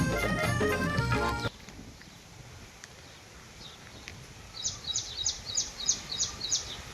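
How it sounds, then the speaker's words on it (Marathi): Short, high chirps repeat in a quick series after a brief burst of louder sound, sparrows calling against a quiet outdoor background. "चिमणीचा आवाज कसा येतोय बघा की"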